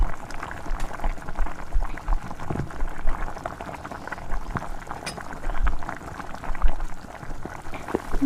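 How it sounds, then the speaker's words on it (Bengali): Rohu fish curry gravy boiling in a pan, thick liquid bubbling steadily with irregular blips and pops close by, moderately loud and with no talking. "ঝোলটা দেখুন খুব ভালো করে ফুটছে"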